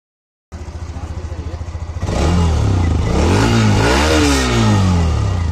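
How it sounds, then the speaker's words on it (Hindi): A black Honda Xtreme motorcycle engine starts and idles with a steady low putter, then revs hard from about two seconds, the tone rising and falling through several loud throttle blips close by. "तो चलिए गाड़ी स्टार्ट हो गई है एक बार आपको साउंड एक बार सुना देते हैं"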